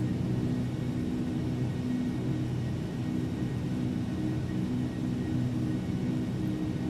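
A Lockheed L-1011-500 TriStar rolls for takeoff in the FSX flight simulator, a steady, loud low jet rumble and whir droning without a break, with no voices.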